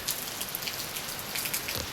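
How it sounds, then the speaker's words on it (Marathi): Heavy rain pours down in Pune, a dense, continuous hiss of drops striking surfaces close by, steady and unbroken, with no voices over it. "किती पाऊस येतो."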